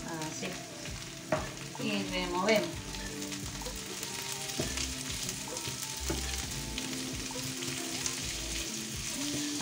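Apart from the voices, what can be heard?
bacon frying in a pan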